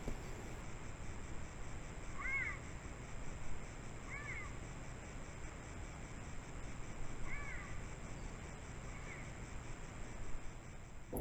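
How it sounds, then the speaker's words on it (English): Faint, high-pitched chirping calls from a cougar ring out a few times at intervals over a steady background hiss, distant and bird-like. "that high-pitched bird-like sound is this cougar calling."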